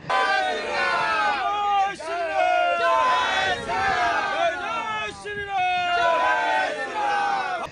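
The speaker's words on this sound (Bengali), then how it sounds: "তারা জগদ্দলের বিধায়কের উদ্দেশ্যে জয় শ্রীরাম স্লোগান দিয়ে থাকেন।" A large crowd of BJP supporters at a rally ground chants Jai Shri Ram slogans in loud, rhythmic, repeated shouts, voices overlapping in waves throughout.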